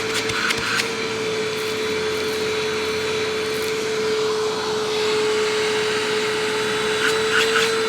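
A Hoover Windtunnel self-propelled upright vacuum runs steadily, a loud constant motor whine with broad rushing airflow, close and unbroken, with a few faint clicks near the start and end.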